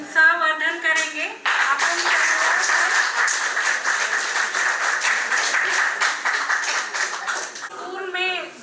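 An audience at a retirement celebration breaks into loud, sustained applause, many hands clapping in a dense, even burst between stretches of someone speaking at the start and end.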